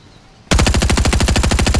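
Rapid automatic gunfire from the video game Fortnite, a loud continuous burst of closely spaced shots starting abruptly and running without pause to the end.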